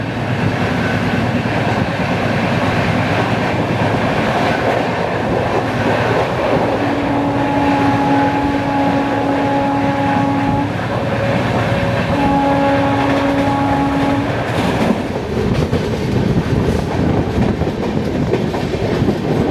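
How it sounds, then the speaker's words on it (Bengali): The Guwahati–Howrah Saraighat Express rumbles steadily past leaving Rampurhat Junction, with rail clatter, and a long horn sounds twice midway, loud and close throughout. "গৌহাটি হাওড়া সরাইঘাট এক্সপ্রেস রামপুরহাট জাংশন ছেড়ে বেরাচ্ছে"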